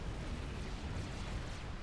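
Unit explosion in the real-time strategy game Supreme Commander: Forged Alliance, a dense continuous roar of blasts and rumbling debris filling the whole short stretch at steady loudness, with no talk.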